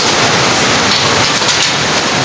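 Heavy rain roaring steadily at a public market in Silang, Cavite, a loud dense hiss filling the whole stretch with no pauses and no voices.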